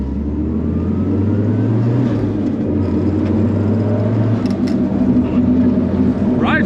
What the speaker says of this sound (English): Even going slow, you just get the nice little turbo whistle, nice little flutter.